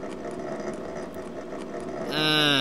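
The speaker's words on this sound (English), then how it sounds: "It's a generator." Generator machinery in the Stoneship Age of Real Myst, a steady mechanical drone with layered ambience that swells into a louder, tonal grinding whine of gears near the end.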